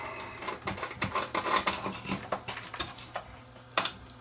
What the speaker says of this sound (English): now I can remove all the screws to lift the board out of the way